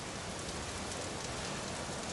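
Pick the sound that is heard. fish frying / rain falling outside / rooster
rain falling outside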